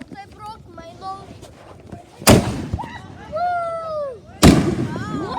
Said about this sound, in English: All right, they're gonna set off fireworks.